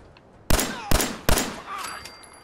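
Three sharp gunshots in Fallout 4, fired in quick succession less than half a second apart, loud and crisp with short echoing tails.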